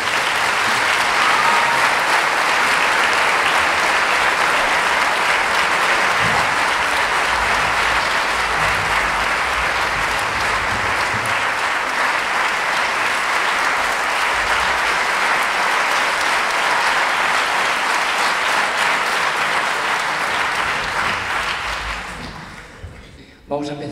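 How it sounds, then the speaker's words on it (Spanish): Sustained, loud applause from a large concert audience welcoming a band onto the stage fills the room, fading out in the final seconds. "recibamos ya con un fuerte aplauso a la banda de Eibar"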